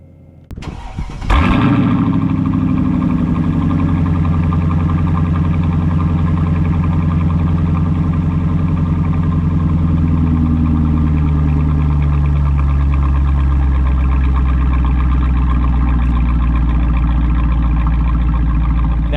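A Ford Raptor's V8 with a Corsa Extreme catback exhaust and its valves wide open cranks and fires at about the 1.5-second mark. It settles into a loud, deep, rumbling idle that carries on steadily to the end.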